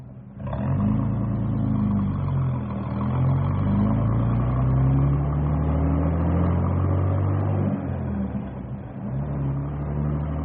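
A bus engine pulls away and gets rolling, a steady low rumble with gear-like rising and falling tones, fairly loud and close, with no talking.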